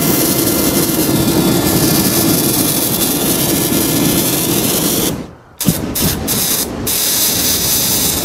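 A Super Flamethrower burning through its remaining fuel outdoors, a loud continuous roaring hiss of the flame that sputters out near the end into a few short bursts before the roar returns.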